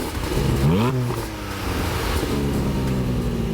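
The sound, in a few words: Porsche 718 Boxster GTS 4.0 engine revving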